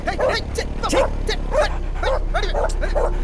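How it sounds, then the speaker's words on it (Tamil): Several dogs bark at night, with close, loud, repeated yips and barks in quick succession, about eight sharp calls over a low steady hum, with a voice briefly mixed in. "நைட்டான அந்த நாய்ங்க தொல்லை"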